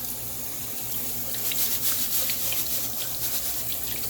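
Tap water running into a pot while rice is rinsed, a steady rushing stream with splashing and sloshing of grains, close and alone with no talk.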